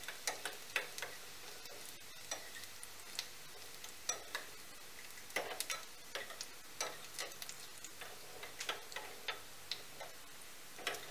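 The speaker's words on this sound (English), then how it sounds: "We need to fry the urad dal till it turns brown." Cumin seeds and urad dal frying in a pan for coconut chutney, giving off irregular crackling ticks and pops over a soft steady sizzle, close and moderately quiet with no talk.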